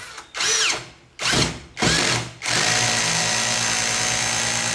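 A power screwdriver with its torque clutch set near 16 drives a screw until the head sinks flush and the clutch cuts out. Three short, loud whirring bursts are followed by a steady mechanical whir, with no talking.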